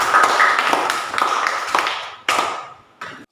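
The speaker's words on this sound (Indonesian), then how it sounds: "Bagus sekali, tepuk tangan dulu untuk kelompok 3." Sixth-grade classroom applause for student group 3 after a presentation, a burst of many hands clapping in a lively patter that thins toward the end, with a few sharp separate claps.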